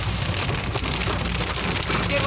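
Rain falling steadily outdoors during a hailstorm, a dense, loud, continuous patter on surfaces with no gaps.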